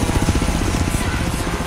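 Helicopter in the racing game Forza Horizon 3, a loud, close, steady rotor thump beating rapidly and continuously over a dense engine roar.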